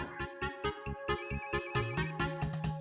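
A phone's ringtone plays on its own, a repeating electronic melody of bright, evenly spaced tones that loops steadily at close range with no talking.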